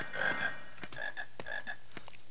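Chocolate frogs in the PC game Harry Potter and the Philosopher's Stone let out repeated croaks, a few short bursts in uneven rhythm under a steady background hiss, with no talk.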